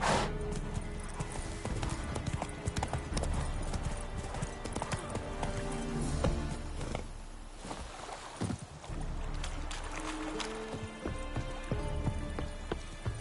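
A horse gallops in The Witcher 3, with rapid, loud clip-clop hoofbeats in a steady running rhythm close by, plus gear rattle and faint ambient game sound.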